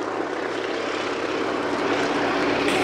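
Boeing Stearman biplanes of a wing-walking team flying at Shoreham Airshow, a steady droning propeller engine sound, moderately loud and continuous with no talking.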